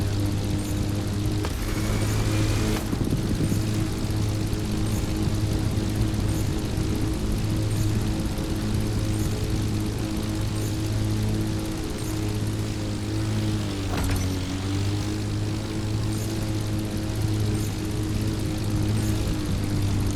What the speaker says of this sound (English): Now it should switch to the plane.